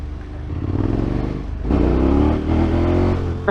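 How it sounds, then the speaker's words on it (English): A motorcycle engine runs loud and close, its rumble rising in a rev partway through and reverberating off surrounding walls on a motorcycle tour in France; no talk. "The noise of my bike against these walls."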